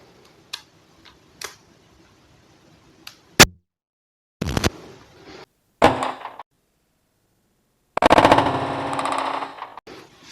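An Umarex HDS68 double-barrel air shotgun, sawn-off style, fires a plastic slug with a steel ball core: a few sharp, loud cracks stand apart among softer handling clicks and taps, followed by a longer rattling burst near the end.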